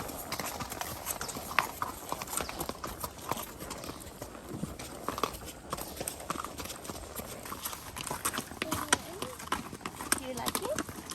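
An Arabian horse being ridden on a family horse farm produces a steady run of hoof clip-clops throughout, close and rhythmic, with people talking over it.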